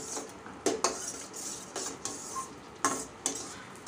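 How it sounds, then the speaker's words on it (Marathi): A spoon scrapes and clinks against a kadhai while tomato jam is stirred, giving a handful of sharp metallic knocks spaced irregularly over soft bubbling and scraping, quiet and close. "कंटिन्युअसली इथे फिरवत राहायचं आहे, नाहीतर हे आपल्या कढईला खाली चिटकेल"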